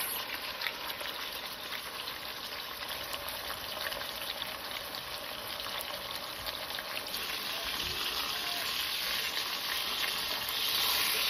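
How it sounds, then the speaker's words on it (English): Pork chops sizzle steadily in a cast iron Dutch oven, a continuous dense frying hiss holding even loudness throughout with no talking. "now all I'm gonna do is just place them in my cast iron Dutch oven so that they can cook for approximately 6 to 8 minutes"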